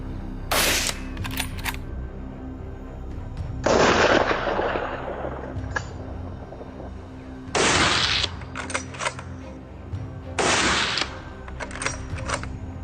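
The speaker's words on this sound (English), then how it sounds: "we aimed and unleashed a deafening volley" Gunfire at wild boars during a hunt: several loud, sharp shot bursts with rapid follow-ups, separated by quieter gaps of outdoor background noise.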